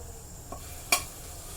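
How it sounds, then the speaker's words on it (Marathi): Ginger-garlic paste hitting hot oil in a pan for a spicy Agri-style mackerel curry, giving a short, faint sizzling burst over a quiet kitchen background. "तेल गरम झालेलं आहे आता आपण त्यामध्ये एक चमचा आलं लसणाची पेस्ट घातलेली आहे"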